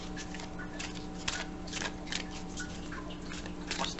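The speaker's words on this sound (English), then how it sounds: "Just a few more shuffles here." Cards are riffled and shuffled repeatedly in quick bursts, close up and fairly quiet, with soft papery snaps and no talking.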